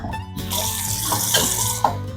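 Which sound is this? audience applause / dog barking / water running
water running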